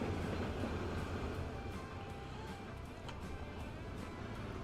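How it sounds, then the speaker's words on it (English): Two EMD SD45 locomotives double-head a freight train in the video game Transport Fever, giving a faint, steady rolling rumble with light rail clatter and occasional clicks throughout. "So yeah, double head train."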